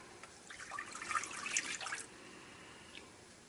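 Milk pours into a pan in a short splashing stream for about a second and a half, then trails off into quiet; no voices.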